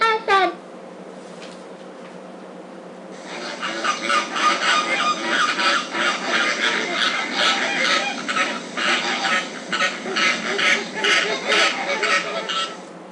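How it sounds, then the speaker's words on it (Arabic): A goose honks in a rapid, repeated series of loud, nasal calls that run steadily for several seconds after a brief call at the start. "وزة وزة وزة وزة وزة وزة وزة"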